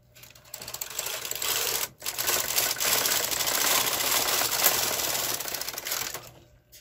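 A bulky knitting machine carriage is pushed across one row, making a loud, dense rattling clatter that breaks for an instant partway through, then continues before fading at the end.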